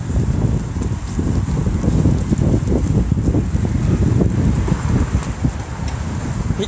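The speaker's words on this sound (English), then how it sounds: "It's really windy here though." Gusty wind in the video game GTA 5 roars steadily with low rumbling buffets and a faint high hiss, continuous and fairly loud, with no talking.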